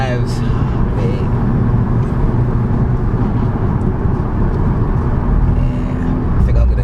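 Mercedes CLA45 AMG 430 bhp hatch driving, steady engine and road roar heard from inside the cabin throughout, loud and continuous, with someone speaking briefly over it.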